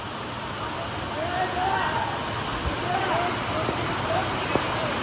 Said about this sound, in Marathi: एकदम खतरनाक पाऊस होते बघा